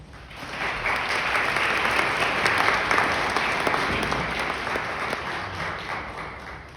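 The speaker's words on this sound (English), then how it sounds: "let's give you all a well-deserved round of applause" Audience applause at a nursing student ceremony, sustained even clapping from a sizeable crowd that swells slightly then gradually fades.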